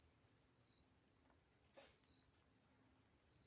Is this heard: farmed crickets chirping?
yes